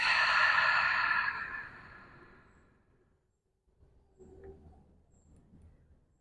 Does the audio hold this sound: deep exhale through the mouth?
yes